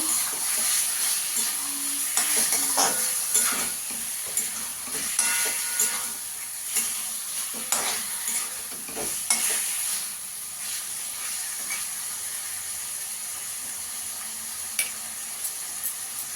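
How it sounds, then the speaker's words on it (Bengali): Chicken pieces fry in a pan with a loud, hissing sizzle, interrupted by several spatula scrapes early on, then settling into a steady steamy crackle. "চিকেনটা দিয়ে ভালো করে ভেজে নেব"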